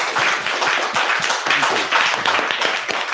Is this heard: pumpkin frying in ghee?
no